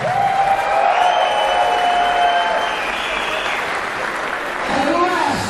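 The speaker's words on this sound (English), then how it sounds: "Give yourself a round of applause" A crowd at a wrestling event applauds loudly and steadily, with some cheering, while someone talks over the clapping through a PA.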